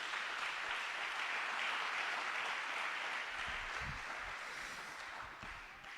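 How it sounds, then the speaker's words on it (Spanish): Steady applause from a church congregation at an evening service, a dense, even wash of clapping that holds for about six seconds and slowly eases off. "Un aplauso para ellos también"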